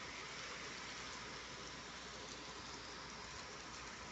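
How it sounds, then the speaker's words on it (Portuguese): Steady rain falls outside in an even, continuous hiss of drops on surfaces, fairly faint and unbroken, with no voices. "olha a chuva que tá"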